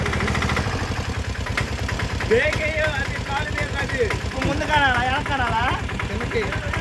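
A Mahindra auto rickshaw engine idles with a steady low, pulsing rumble throughout, close and loud, while people talk over it.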